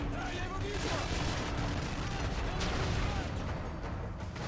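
Dense gunfire in Call of Duty MW3 played on an emulator, rapid overlapping shots and booms forming a continuous loud barrage, with a player talking over the battle.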